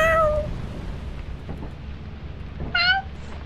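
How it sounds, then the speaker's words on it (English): Cat meowing in the video game Lethal Company: two clear, close meows, one at the start and another near the end, with a low steady background hum between them. "There's the Omar cat."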